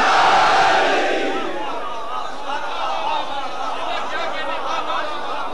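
A crowd at a Shia majlis gathering shouts the Nara-e-Haidari slogan in unison, a loud collective roar that swells at once and then slowly fades.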